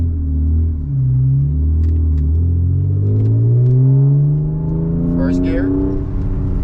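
A loud BMW E36 engine pulls hard on a highway, its deep exhaust drone rising in pitch through a long acceleration, close inside the car, with a brief higher whine near the end.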